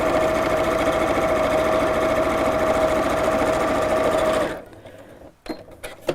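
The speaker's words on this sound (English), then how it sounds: "I'm also going to just sew the ends here, just to hold the pocket in place" A sewing machine stitching fabric to hold a pocket in place, running at a steady fast whirring hum for about four seconds before stopping, followed by a few handling clicks.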